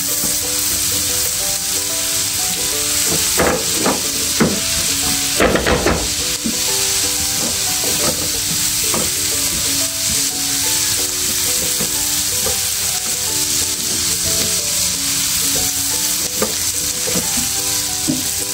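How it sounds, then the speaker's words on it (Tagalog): Garlic sizzles steadily in a pan of melted margarine for chili garlic fried rice, a dense continuous fry broken by sharp scraping clicks of a utensil stirring, with no voices over it. "Ilagay na natin tong garlic."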